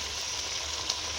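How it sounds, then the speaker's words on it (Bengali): A wok of curry on the stove, with water just added, bubbling and sizzling in a soft, even hiss that stays steady for a brief moment. "ফুটছে কড়া"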